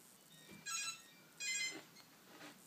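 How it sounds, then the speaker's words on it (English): A telephone rings indoors in a house with two short electronic ringing bursts separated by a brief gap, moderately loud over a quiet room. "Oh, the phone's ringing."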